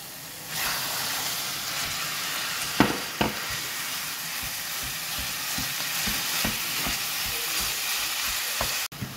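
Courgettes and minced meat fry in a pan with a steady, close sizzle, broken by a few sharp clacks and scrapes of stirring.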